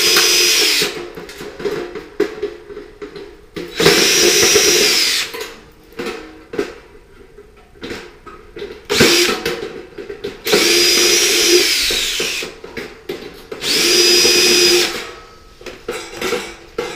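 A power drill backs screws out of the side panel of a Samsung DV45H7000EW/A2 dryer, sounding in four loud, sustained whirring bursts of a few seconds each, with quieter clicks and handling noise between them.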